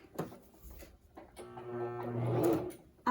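A sewing machine stitches fabric in a short burst of whirring after a few handling clicks and knocks, fairly close and moderately loud, then stops with a final clunk.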